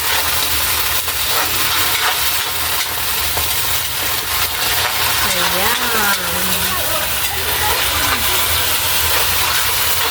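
Sardines sautéing in a pan for a ginisang upo breakfast give off a loud, continuous steamy hiss and crackle up close, with a voice briefly speaking over the frying midway.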